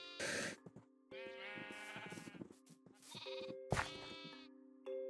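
Sheep bleating in the video game Minecraft: several loud, close bleats in a row, each a wavering, buzzy cry, separated by short quiet gaps.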